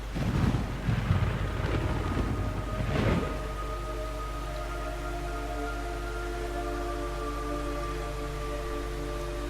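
Rain and thunder in the video game Metal Gear Solid 3: a loud rumbling burst of thunder for the first three seconds, then a steady wash of rain under sustained tonal music or ambience.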